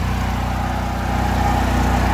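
Generator engine running inside a DIY generator shed with its doors open, a loud, close, steady low drone with regular pulsing firing beats and no voices.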